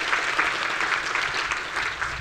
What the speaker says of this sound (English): Give Kathy a round of applause.